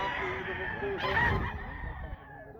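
Roosters crow among the bustle of a gamecock expo in Mantalungon, Barili, Cebu, a moderately faint call rising over crowd background noise.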